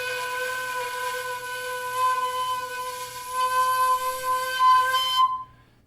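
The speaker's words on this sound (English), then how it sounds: "if we try to use too much power and we're too close, it'll overwhelm the shakuhachi" Overblown shakuhachi bamboo flute held too close with too much breath, giving a sustained, strained tone with a bubbling, turbulent edge that swells in loudness before cutting off abruptly near the end.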